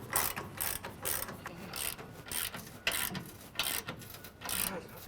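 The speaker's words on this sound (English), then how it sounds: "And now we will zip these three down with a 21." A hand ratchet with a 21mm socket zips down bolts on an Ironman 4x4 Raid rear bumper for a 2014-2021 Toyota Tundra, giving a steady series of quick, close clicking bursts with brief pauses between strokes.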